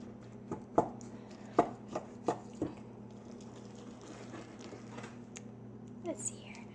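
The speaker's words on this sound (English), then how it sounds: "I have all the ingredients in the bowl and I'm just simply mixing it" Carrot bread ingredients are mixed in a spinning bowl, giving a handful of sharp, irregular knocks and clatters up close that fade into quieter scraping.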